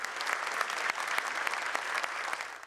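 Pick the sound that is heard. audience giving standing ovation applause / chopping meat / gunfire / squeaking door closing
audience giving standing ovation applause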